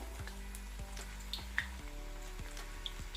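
Onion pakoda batter frying in hot oil over a medium flame, a faint continuous sizzle with soft crackles and small pops, close and alone without talk.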